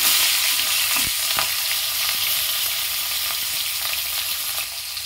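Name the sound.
fish frying in oil in a small pan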